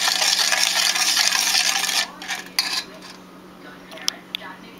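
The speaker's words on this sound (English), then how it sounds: "here I added the sugar and the butter, and mixing it" A spoon mixing sugar and butter for oatmeal raisin cookies, giving a steady loud scraping, rubbing sound for about two seconds, then quieter scattered clinks and scrapes with short pauses.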